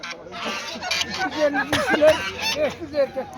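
Turkeys and other poultry at a Turkish poultry market, with repeated close gobbling and honking calls over a busy background where people talk.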